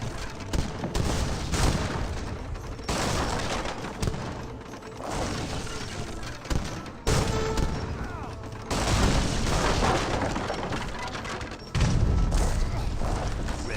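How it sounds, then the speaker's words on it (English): Culverin cannon volleys in an Age of Empires 3 battle, a dense barrage of booming shots and gunfire bursts layered over continuous battle noise, loud and sustained throughout with repeated sharp onsets. "Culverins do find a good volley there."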